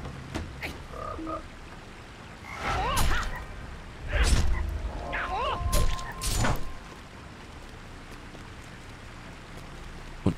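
Toad croaks in the fantasy online game Lord of the Rings Online, a few short throaty calls around the middle of the clip over a steady outdoor ambience, with faint voices and game effects mixed in.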